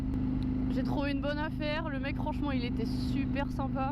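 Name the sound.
KTM Duke 790 motorcycle engine, decatted Akrapovic exhaust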